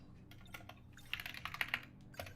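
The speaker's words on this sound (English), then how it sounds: "I started typing in Japanese to see" Keyboard typing in the video game 13 Sentinels: Aegis Rim, a quiet run of quick clicks and taps that grows a little denser and louder midway, with no voices over it.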